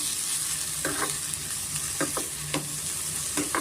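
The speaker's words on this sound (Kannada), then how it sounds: "ಟೊಮೆಟೊ ಸ್ವಲ್ಪ ಚೆನ್ನಾಗಿ ಫ್ರೈ ಆಗಬೇಕು" A medium-sized tomato sizzles in a hot pan over a medium flame while being stirred for a palak chana gravy; a steady close frying hiss runs throughout, broken by several sharp scraping strokes of the spoon at irregular intervals, with no voices.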